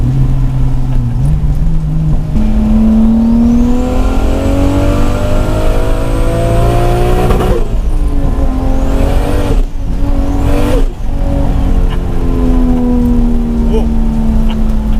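A 600 hp single-turbo Toyota Supra engine revs and accelerates loudly and steadily from up close, its pitch climbing in long sweeps, then briefly dropping at gear changes before rising again, with a whine over the roar.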